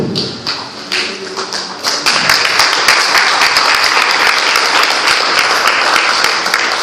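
A church congregation applauding the Lord during a service: a few separate claps swell into loud, steady applause filling the room, with scattered thumps underneath.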